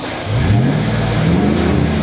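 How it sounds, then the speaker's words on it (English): A remote control car engine revs loudly and steadily, its pitch climbing and wavering through the short burst, alone without voices. "It's a remote control car."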